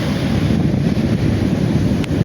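Waves wash steadily onto the seashore beside Somnath temple, a continuous broadband rush with wind buffeting the microphone throughout and no voices.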